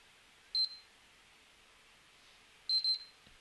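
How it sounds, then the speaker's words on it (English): A PS3 console gives two short, high electronic beeps, the second a quick double chirp, clear and close in an otherwise quiet room. "you'll hear it beep twice"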